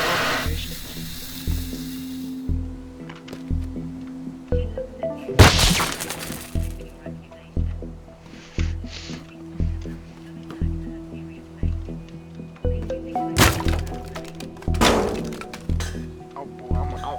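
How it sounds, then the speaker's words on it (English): Crashing and shattering impacts from buildings being demolished in the destruction game Teardown, with loud breaking bursts over a steady rhythmic background thump and scattered clinks of debris. "I'll destroy the whole upstairs area."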